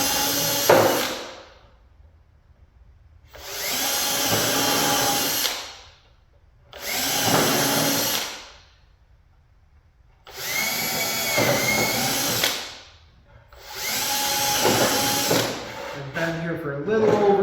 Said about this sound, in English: If you've never used one of these little pilot bits with a countersink on it, they are wonderful.